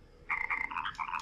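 A cartoonish frog croaks in a quick run of several throaty ribbits from a sprayed frog in the video game Chibi-Robo!, heard clearly over quiet game background.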